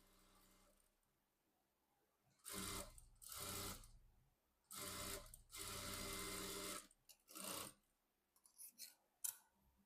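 A sewing machine stitches tucks into a blouse in short bursts of fast rattling needle action, five runs of one to two seconds each separated by pauses, close and clear, with small clicks of handling at the end.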